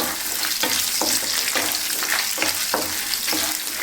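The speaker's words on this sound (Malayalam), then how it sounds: "നമുക്കിതിലേക്ക് ഒരു രണ്ട് സ്പൂൺ തേങ്ങാക്കൊത്ത് ചേർത്ത് കൊടുക്കാം" Coconut pieces roasting in melted ghee, a loud continuous crackling sizzle punctuated by regular rhythmic scrapes of a stirring spoon against the pan, close by.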